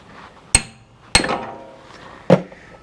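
A hammer knocks an axle out of a BMW E92 335i with the N54 engine. There are three sharp metallic strikes, close and loud, spaced unevenly with short ringing decays.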